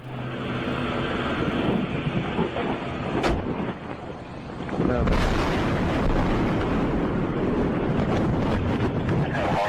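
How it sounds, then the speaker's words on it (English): A loud, deep rumbling blast rolls in and sustains, a roaring boom with wind-like noise, following a stretch of heavy low rumble. "we just had a huge explosion"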